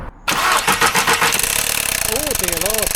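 A 162k-mile VW Golf TSI engine cranks and starts, then settles into a loud rattling idle close by, while a person speaks over it.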